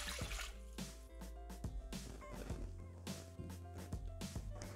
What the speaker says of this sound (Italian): aggiungere l'acqua, 200 grammi